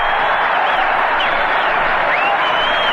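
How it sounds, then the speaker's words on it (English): A Boston Garden crowd at a 1969-70 Bruins hockey game roars and applauds after a goal, a dense, loud, sustained cheer with whistles. "And the Boston Garden crowd erupts."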